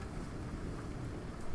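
Stormy wind outside during a lightning storm, coming through an open window as a dense, continuous rumbling rush with low gusty buffeting, fairly loud and unbroken, no talking.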